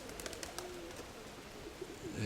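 Soft pigeon cooing outdoors, low murmuring calls over faint wind and light background clicks.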